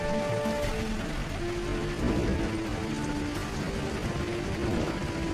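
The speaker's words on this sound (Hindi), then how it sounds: "जोर की बारिश होने लगती है" Heavy rain pours down in an animated Hindi cartoon village, a dense, continuous hiss of falling water that stays loud and even throughout, with no voices.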